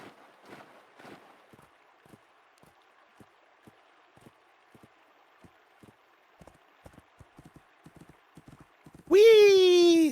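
Horse hooves clip-clopping at a steady walking rhythm in a video game, soft and fairly quiet, followed by a sudden loud, close whinny that ends the clip.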